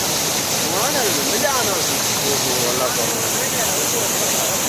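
Fast-flowing flood water rushes in a loud, steady, broadband roar that fills the whole stretch, with faint voices buried beneath the torrent.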